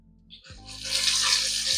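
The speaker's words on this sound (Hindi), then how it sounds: "लहसुन अदरक का पेस्ट डाल देंगे," Garlic ginger paste hitting hot cooking oil in a kadhai, breaking into a steady hissing sizzle after a short hum, loud and close for the remainder.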